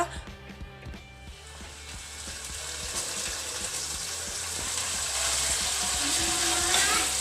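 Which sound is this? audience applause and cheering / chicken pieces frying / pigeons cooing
chicken pieces frying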